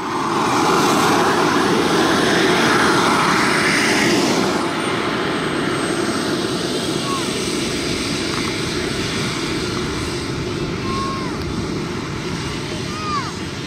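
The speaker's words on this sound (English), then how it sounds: "a small turbine. It's actually a 170, but it's turned back to between 140 and 160 output." Small turbine engine of a radio-controlled Tuono NRG jet plane, rated 170 but turned back to 140–160 output, running loud and close as a steady roaring whine with rising whistling tones, no speech heard.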